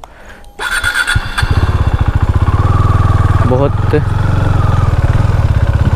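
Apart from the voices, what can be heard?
KTM Duke 390 motorcycle engine running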